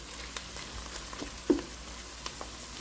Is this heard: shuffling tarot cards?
no